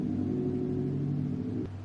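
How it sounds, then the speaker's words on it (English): A loud car passes on a street outside a window, a steady low engine rumble that holds for over a second and a half before dropping off sharply, heard alone without talk. "It was a loud car."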